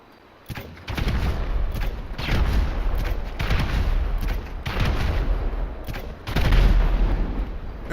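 Grenade blasts and gunfire in GTA 5 Online, a dense string of loud, close booming bursts and rattling shots that carries on steadily with short breaks.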